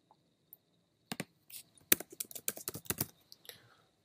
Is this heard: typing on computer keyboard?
yes